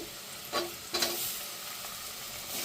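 Tomatoes tossed into a sizzling pan, two sharp bursts of louder crackle as they hit the oil, then settling into a steady, moderate frying sizzle with no talk.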